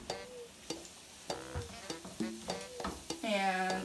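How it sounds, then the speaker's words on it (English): Vegetables sautéing in hot oil while a wooden spoon spreads them across the pan, giving a series of sharp scraping clacks over a steady soft sizzle that swells louder toward the end. "I'm gonna spread them out with a wooden spoon."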